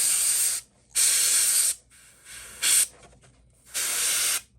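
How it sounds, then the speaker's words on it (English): An aerosol can hisses in four separate bursts while a 3D Superman figure is spray painted, each spray sharp and close with brief quiet gaps between them. "I'm not worried about the overspray."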